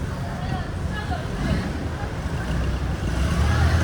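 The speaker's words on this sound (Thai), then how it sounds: "นี่คือเรือเรือหางยาวอยู่เช่นเคยครับ" A long-tail boat at Sathorn Pier on Bangkok's river: an engine drone blends with water slosh and wind buffeting the microphone. The sound is steady and fairly close, with a slight swell toward the end.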